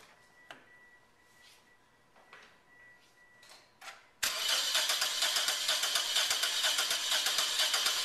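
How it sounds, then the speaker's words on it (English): A car engine being cranked over for a relative compression test, quiet ticks and clicks first, then a loud, steady, rhythmic cranking roar that continues to the end. "now let's go ahead and crank the engine over"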